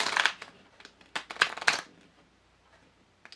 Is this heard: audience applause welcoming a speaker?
no